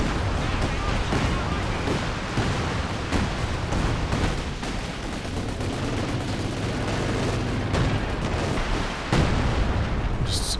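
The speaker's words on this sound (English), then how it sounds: "Straight artillery wars at the moment" Artillery duels in a Company of Heroes 2 real-time strategy match: repeated heavy booms and shell blasts, dense and continuous, some close and sharp, under steady commentator talk.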